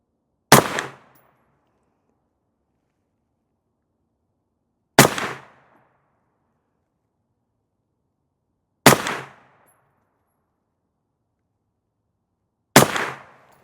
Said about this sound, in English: This is the first shot suppressed.